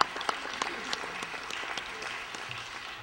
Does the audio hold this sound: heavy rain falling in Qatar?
no